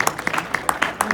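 A live seminar audience applauds a volunteer walking up for an onstage demo, with a brief burst of scattered, fairly light hand claps in a large room.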